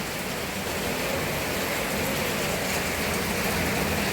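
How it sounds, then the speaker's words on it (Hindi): Heavy rain pours steadily over the beach town of Varkala in Kerala, a dense, even hiss of water that stays loud and constant throughout with no voices. "and now it is raining heavily"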